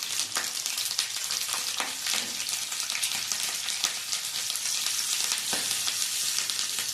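Finely chopped green chillies, four of them, dropped into hot oil with the gas turned off, crackling in a dense, steady sizzle that fills the whole stretch with sharp spits and pops.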